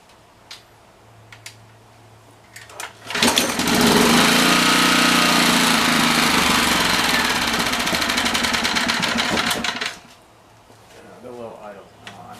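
A Honda GN190 small engine, just after a governor adjustment, roars to a loud, steady run for about seven seconds before cutting back to quiet. Softer mechanical background sounds come before and after.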